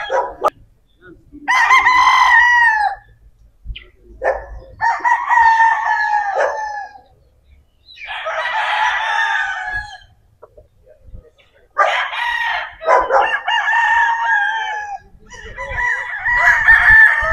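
Several gamecock roosters crow at a farm's cording area, loud, drawn-out cock-a-doodle-doos coming one after another from close and slightly farther birds, with brief gaps and faint background noise between them.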